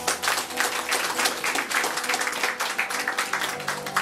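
An audience claps for a guest at an evening event on a rainy afternoon, steady dense applause with many hands sounding close and continuous throughout.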